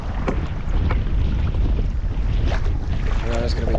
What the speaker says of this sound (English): the wind has picked up a little bit